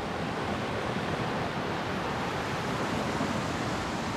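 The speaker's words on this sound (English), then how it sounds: "There's the Bright Angel Creek" Steady broadband rush of Bright Angel Creek flowing past a campground in the Grand Canyon, constant and fairly close, with no voices over it.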